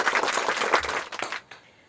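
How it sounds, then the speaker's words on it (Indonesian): A classroom group applauds after a discussion in a Grade 7 Indonesian-language lesson, a dense burst of close clapping that tapers off and stops after about a second and a half. "ya kita tepuk tangan dulu."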